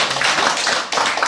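An audience at a lecture gives a short burst of applause for the lecturer, with dense, close clapping that dips briefly and then resumes.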